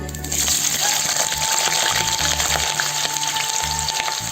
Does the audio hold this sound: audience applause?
no